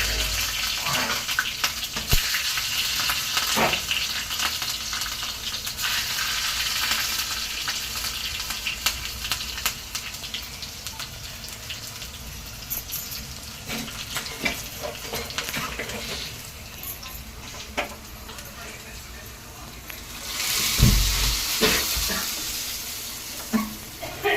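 Hot oil tempering with chilies crackles and sizzles continuously, with a louder burst of spattering toward the end; no one speaks.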